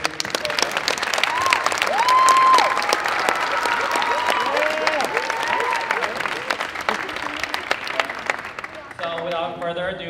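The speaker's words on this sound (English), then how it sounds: "can we give them a round of applause for their dedication to the program?" Sustained applause and cheering from the audience at a high school spring concert, a dense wash of clapping that holds for several seconds before music begins at the very end.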